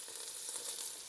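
Mallard crown frying in a pan gives a soft, steady sizzle with a continuous fine crackle, fairly quiet and close, with no voices.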